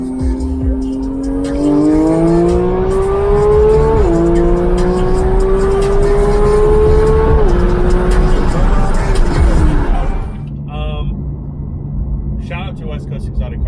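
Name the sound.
Porsche GT3 engine revving above 8,500 RPM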